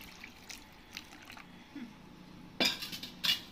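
Sand is being washed with water in a basket for a Haritalika puja idol, with soft sloshing and scraping, then two sharper splashes and clinks near the end, close by.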